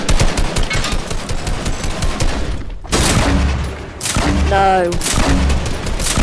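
Loud Fortnite battle noise: rapid machine-gun fusillades fill the opening seconds, then a sharp sniper-style crack and further bursts follow, with a player's voice speaking briefly over the shooting.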